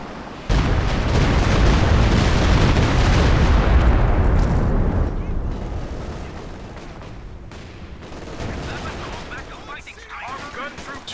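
Walking Stuka rocket artillery barrage in Company of Heroes 2, a loud rolling wall of rapid rocket impacts and explosions lasting several seconds, then decaying into scattered distant gunfire and battlefield noise, with a voice commentating over it.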